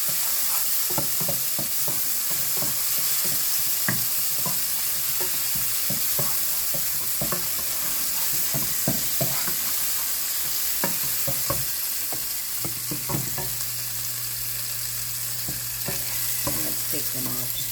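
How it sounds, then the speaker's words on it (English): Pineapple pieces fry in a pan for a pineapple kesari, with a steady close sizzle and a run of clicking, scraping stir strokes repeating irregularly throughout. "Fry them a bit."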